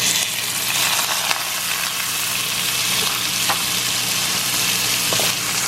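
Rice toasting in a pot with oil left from fried garlic gives a steady, close sizzle with a few faint crackles and pops, no voices.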